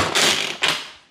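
A manual onion chopper dices onion for a veal creton recipe in a home kitchen, giving two close, loud bursts of rattling, clacking plunges, the second shorter, with no talk.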